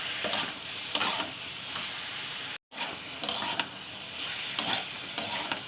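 Vegetables frying in hot oil in a home kitchen pan, a steady close sizzle with repeated stirring scrapes and a brief cut partway through, no voices.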